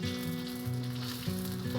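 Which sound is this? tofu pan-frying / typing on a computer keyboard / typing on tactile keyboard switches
tofu pan-frying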